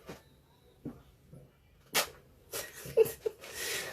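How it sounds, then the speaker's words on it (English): A tiny, quick sneeze amid soft clicks and rustles during a live ASMR sponge-squeezing session, brief and moderately close. "Little tiny baby sneeze."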